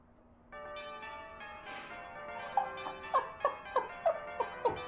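A Big Ben clock bell chime rendered as a warped meme, with sustained bell-like tones swelling in, followed by a regular series of sharp, loud struck peals repeating about every third of a second toward the end.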